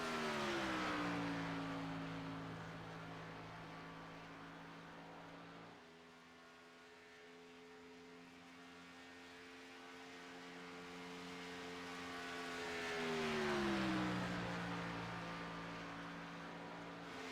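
A race car during a qualifying lap, engine drone rising and falling in pitch as it passes, heard at a distance, sustained and moderately loud with no talk.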